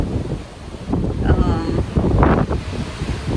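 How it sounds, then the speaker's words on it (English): Strong wind buffets the microphone in rumbling gusts on a cruise ship deck, with a voice speaking faintly underneath and a hint of open water in the background. "it's windy out here, feels so good."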